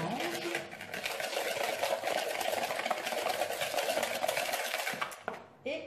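Batter for a génoise sponge cake being mixed after milk is added, a steady whirring churn running continuously at moderate volume, cutting off near the end.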